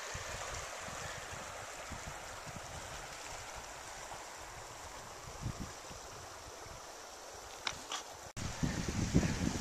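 The Gallatin River in Yellowstone runs in spring meltwater beneath undercut snow banks, making a steady broadband rush with some wind buffeting the microphone and a few brief louder splashes near the end.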